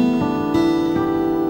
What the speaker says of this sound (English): we play the harmonic up the octave with the finger like that, plucking the string with the plectrum like so